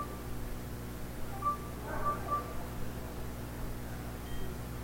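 An NFC card reader emits a few short, faint electronic beeps as a phone is placed near it during a conference hacking demonstration, the tones brief and set against steady room hum.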